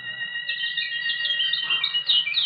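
Birds sing and chirp steadily in high, bright trills over a low background hum, with the calls growing busier and louder partway through.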